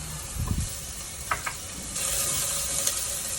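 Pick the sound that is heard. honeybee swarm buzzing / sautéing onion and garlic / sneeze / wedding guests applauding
sautéing onion and garlic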